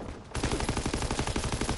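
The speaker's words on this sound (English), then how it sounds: "They're just randomly shooting now" Rapid gunfire in Call of Duty: WWII, a steady automatic burst of evenly spaced shots that cuts in abruptly and keeps rattling loudly to the end, heard alone without talk.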